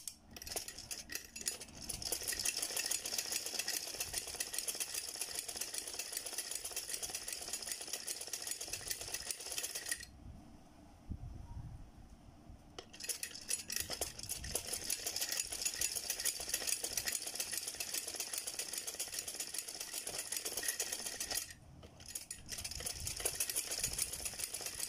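A sewing machine double-stitches a trouser seam for a wide hem, running steadily and loud with two short pauses, no talk over it.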